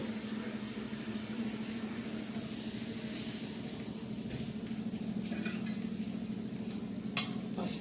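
A cooked onion vegetable dish with green chillies and peanuts gets stirred in a pan, a low steady hiss with soft scraping and a sharp clink of utensil on metal near the end, quiet and close.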